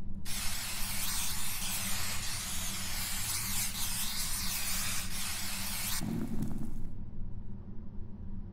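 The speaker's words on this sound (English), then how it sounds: "Spray paint, apparently." A spray paint can hisses in one long, steady, loud burst close by, then cuts off near the end.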